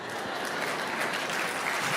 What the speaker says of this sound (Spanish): Y aplauden.